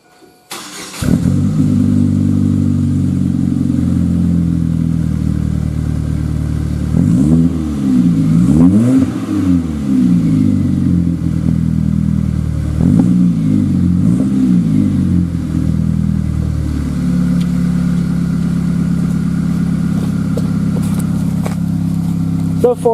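A 2000 GMC Sonoma with a 2.2-litre four-cylinder and Magnaflow dual exhaust starts, settles into a loud steady idle, then takes several sharp revs that rise and fall before returning to a deep rumble, close by with no talking.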